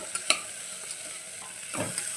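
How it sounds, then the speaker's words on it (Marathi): Hot tempering oil sizzles in a pan as cluster beans are stirred in, a steady hiss with a few sharp crackles and a scraping stir near the end, close and moderately loud with no talking. "तुम्हाला आवाज येत असेल फोडणीचा."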